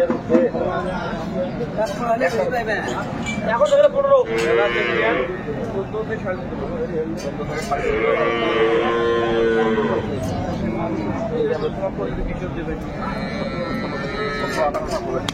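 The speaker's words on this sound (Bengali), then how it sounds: "বেশ সুন্দর গাভী বাছুর আমরা দেখছিলাম," Dairy cows and calves moo repeatedly, close and loud, at Aftabganj cattle market in Dinajpur, amid the murmur of people talking around them.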